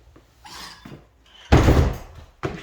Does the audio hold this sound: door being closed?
yes